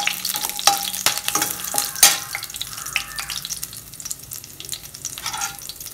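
Fennel, cinnamon and a slit green chilli sauté in coconut oil for a Kerala-style chicken curry, giving a continuous crackling sizzle with sharp spatters and scraping stirs, close and fairly loud.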